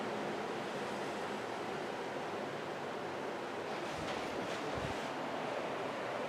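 River water flows nearby in a West Virginia valley, a steady broadband rushing wash with faint low thumps, no voices.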